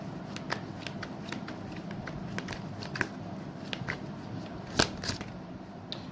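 Tarot cards shuffled by hand at close range, a run of soft crisp riffles and taps with a few sharper slaps near the end, fairly quiet and without talk.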